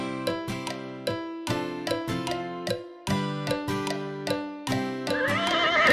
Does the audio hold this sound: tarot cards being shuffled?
no